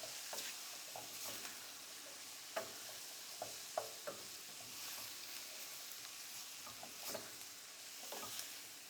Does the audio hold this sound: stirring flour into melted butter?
yes